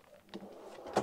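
A pull-out drawer beneath the fridge in a Hymer BMC i600 caravan kitchen being opened, a short soft slide ending in a sharper knock, close and quiet.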